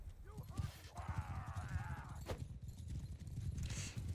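A horse's hooves clip-clop in a fast galloping rhythm in the medieval video game Mount & Blade II: Bannerlord, with a brief whinny, fairly faint under other game sounds.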